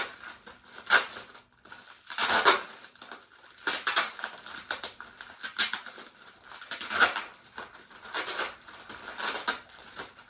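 Tape is peeled off a potted plant in a series of short, crinkly ripping bursts, each a second or so apart, close and fairly soft, with no talking.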